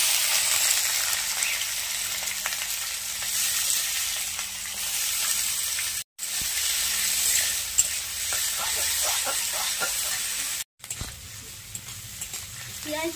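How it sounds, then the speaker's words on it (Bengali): Chopped onions frying in hot oil with whole spices, a loud continuous sizzle with occasional stirring scrapes, close and steady, cut by two brief pauses. "পেঁয়াজটা হালকা করে ভেজে নেব।"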